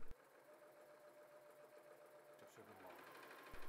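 A W6 N 5000 V2 sewing machine stitches fabric in a steady, fast mechanical whir that runs for a few seconds before slowing and stopping, fairly quiet and close, with a brief click at the start and end.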